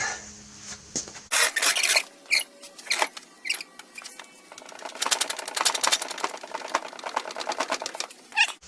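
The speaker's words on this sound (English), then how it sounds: "get the floor jack out and jack her up" Floor jack being pumped to lift a 2016 Ford Explorer, a run of fast close rattling clicks and ratcheting strokes in bursts, loud and steady through most of the stretch with no talk.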